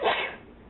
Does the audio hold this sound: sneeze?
yes